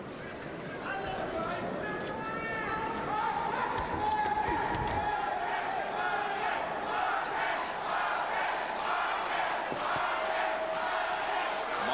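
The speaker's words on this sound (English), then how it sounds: "Marquez fans in the crowd chanting Marquez, Marquez" A boxing arena crowd chants a fighter's name in a loud, rhythmic roar. The chanting swells and sustains throughout, with a commentator's voice faintly over it.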